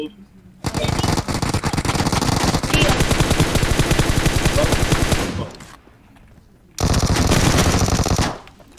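Sustained automatic gunfire in the mobile battle-royale game PUBG Mobile, one long dense burst of rapid shots, a short pause, then a second burst, loud and close with a voice faintly underneath.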